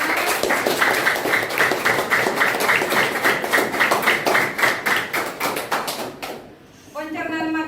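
A classroom claps in unison, a steady series of sharp rhythmic claps that fades after about six seconds, followed by a voice speaking.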